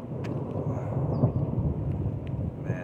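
Thunder rumbles low and steady during a monsoon storm at the Snake River in Idaho, with rain hissing underneath and no speech.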